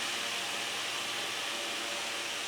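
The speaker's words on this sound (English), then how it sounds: "The noise you can hear is the fan" Steady, even whooshing hum of an electric fan running close by, constant and unbroken with no other sounds.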